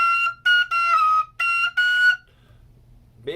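High, shrill tones from a tin whistle played above its third octave: five sustained notes in a row with short gaps, close and bright, followed by quiet and the start of another sound.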